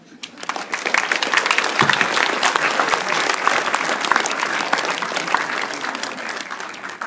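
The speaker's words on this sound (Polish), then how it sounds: "Brawa." A roomful of young people at a discussion event applauds a guest, the clapping swelling quickly from a quiet start into a dense, steady ovation that holds strong throughout.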